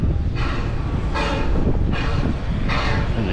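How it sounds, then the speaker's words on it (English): A yellow ride train at Busch Gardens rolling along, a steady low rumble broken by four evenly spaced rushing surges, close and fairly loud, with no talk. "And then we got the yellow train."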